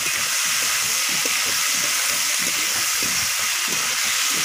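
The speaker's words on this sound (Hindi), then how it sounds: "अभी इसको अच्छी तरह से भूजेंगे" Vegetables for gular sabji frying in a pan, a steady close sizzle with crackling spatter throughout, no talk over it.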